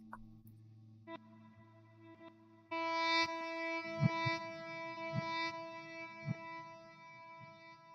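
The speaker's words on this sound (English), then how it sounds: "That's just a plate reverb." Plate reverb from an RV6 pedal washes over sustained guitar tones, leaving a bright, shimmering wet tail with steady harmonic layers after a louder entry near the middle, and no speech.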